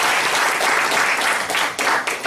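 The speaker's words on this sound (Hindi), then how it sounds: "जरा सर के लिए ताली बजाओ" A dense burst of audience applause, steady clapping from many hands filling the whole stretch without a break.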